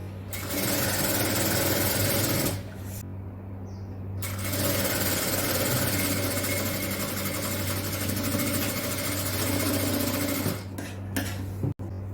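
A sewing machine runs at steady speed stitching designer inskirt panels together, a loud, continuous close whir that pauses briefly twice before resuming.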